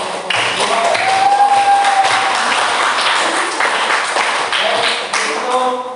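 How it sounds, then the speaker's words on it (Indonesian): Applause from a classroom group for the second team, a steady patter of clapping hands that carries on for several seconds with faint voices mixed in. "sekali lagi kita beri aplaus untuk kelompok 2"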